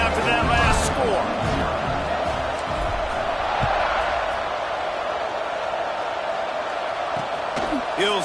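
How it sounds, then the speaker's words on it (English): A college football stadium crowd at a Nebraska versus Virginia Tech game roars in a broad, continuous wash of noise after a score, with a commentator talking over it. "this crowd is buzzing after that last score"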